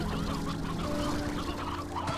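Hens cluck softly in the farming game Slime Rancher 2, a few short clucks over a steady musical backdrop and low game ambience, fairly quiet.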